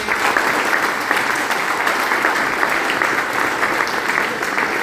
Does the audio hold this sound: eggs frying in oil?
no